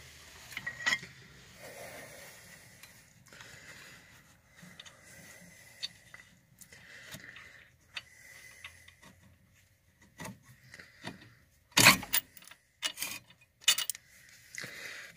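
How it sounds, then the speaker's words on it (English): A pry bar hooked on a brake pad lip levers open the brake caliper of a Chrysler PT Cruiser, giving faint metallic scrapes and creaks and then a cluster of sharper knocks and clanks near the end. "Hook your pry bar on the lip of the brake pad and pry the caliper open."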